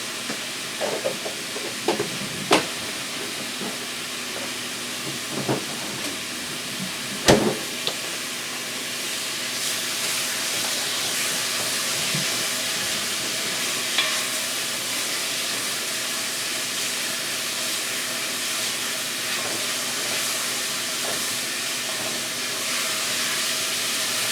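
Butter sizzles in a pan of fettuccine alfredo, a steady broad hiss and crackle that holds for about twenty-five seconds, with a few faint clinks and scrapes of stirring early on and no talk.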